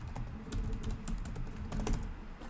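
Rapid keystrokes on a computer keyboard while someone types a value in C# code, a steady close patter of clicks with no voices, and a low room rumble underneath.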